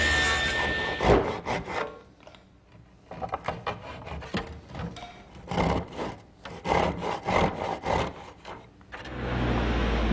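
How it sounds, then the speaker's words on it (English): A 1x lumber windowsill is sawn to length by hand, with steady back-and-forth wood-cutting strokes running through most of the stretch, pausing briefly before a final burst near the end. "The first thing I want to do is cut the sill to size."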